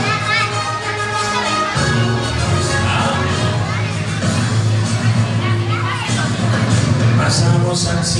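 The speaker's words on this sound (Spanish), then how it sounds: "Aplausos para Amira" A crowd at a children's talent show cheers and calls out loudly, with many excited voices and children's shouts blending into a steady hubbub for the whole stretch.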